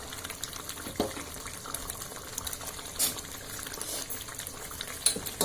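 Water in a pot starting to boil for chicken momos, a soft continuous bubbling and hiss with a few faint clinks, close by and without talk.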